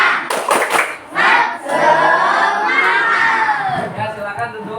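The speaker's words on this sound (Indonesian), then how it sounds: "Tepuk semangat" A classroom of children does a spirit clap, a quick burst of rhythmic claps followed by loud chanting and cheering voices together, close and energetic throughout.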